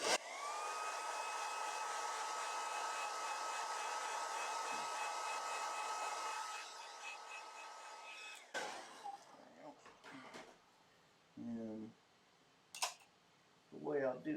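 A hair dryer blows steadily on liquid graphite artwork for several seconds, a loud continuous whoosh that cuts off, followed by scattered clicks, rustles and brief speech.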